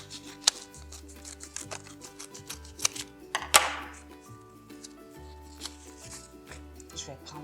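Scissors snip through folded paper, a series of short crisp cuts, some sharper and louder, with a slower gap between them and faint rustling in the background.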